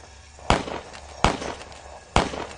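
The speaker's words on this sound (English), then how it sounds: "Was that gunshots?" Three sharp, loud bangs ring out at uneven intervals, each with a short echoing decay, against a quiet background.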